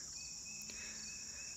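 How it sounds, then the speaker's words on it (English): Crickets chirp in the early morning outdoors, a steady high-pitched continuous trill at low volume with no talk and only faint background noise. "Do you hear those crickets?"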